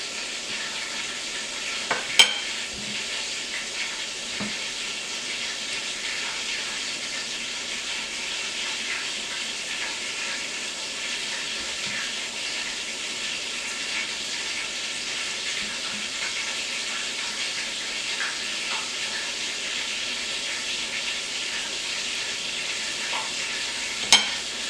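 Coated chicken breast fries in a pan for a buffalo chicken sandwich, giving a constant, even sizzle and hiss throughout with a couple of faint clicks and no voices.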